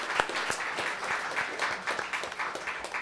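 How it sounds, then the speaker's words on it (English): An audience at a live radio session in the Pabst Theater claps steadily, a dense patter of many hands with individual claps standing out, moderately loud and sustained throughout. "And for yourselves, give yourselves a round of applause."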